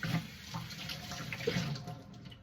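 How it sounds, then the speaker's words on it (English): Tap water runs steadily into a kitchen sink while hands and a flexible silicone dough scraper are wetted for handling sourdough, a continuous close splashing stream. "So I get this wet and I get my hands wet"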